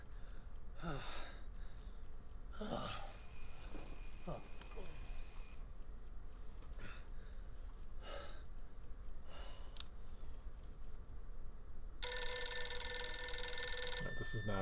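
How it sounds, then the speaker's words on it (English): Telephone ringing in a video game, heard as an electronic bell-like ring in two stretches, the second louder and buzzier, with a person talking quietly over it. "we're gonna go answer the phone"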